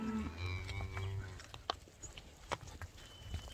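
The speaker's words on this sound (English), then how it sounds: "I got a whole herd of cows following me today." A herd of cows lowing outdoors on a farm, several long, deep moos rising and overlapping near the start, followed by scattered thuds and shuffling movement at moderate distance.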